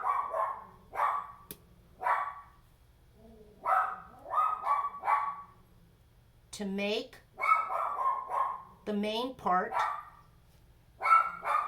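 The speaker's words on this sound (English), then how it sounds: "Sorry about the dog." A dog barks repeatedly indoors in a home in short bursts and yips, loud and close, interleaved with someone speaking during a craft painting session.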